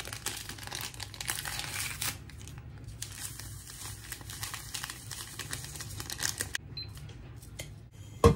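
Two 8-gram packets of vanilla sugar are torn open and emptied into a pot of soy milk. Close paper crinkling and tearing rustle on for several seconds, with no talking.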